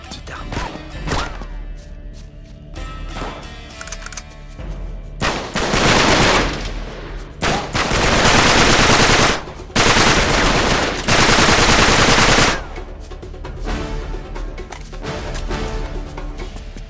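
Video game gunfire in Uncharted 3: scattered single shots, then loud sustained bursts of automatic fire that come in long blasts with short gaps, close and harsh.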